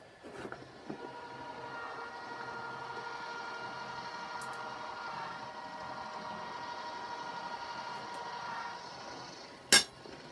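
An AccuQuilt die cutter rolls two overlapping layers of fabric through with a steady mechanical whirring hum that lasts several seconds, framed by soft knocks and ending in a sharp click.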